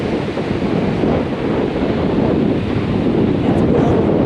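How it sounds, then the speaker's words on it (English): Strong hurricane wind gusts buffet the microphone in a continuous loud roar, with surf rumbling underneath and no voices. "It's pretty significantly strong gusts coming in."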